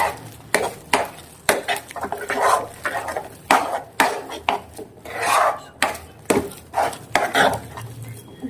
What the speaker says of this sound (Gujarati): આ બધી વસ્તુ આપણે સારી રીતે મિક્સ કરી દઈશું